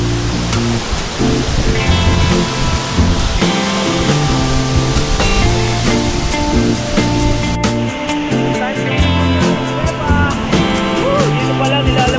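Waterfall of cold water pouring steadily in a loud, broadband rush, with people talking over it at times.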